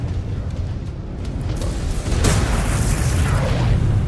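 Missile explosions in the MechWarrior 5: Clans video game, a rumbling low boom underneath that swells into a louder, sustained roar of blasts after about two seconds, with no talk.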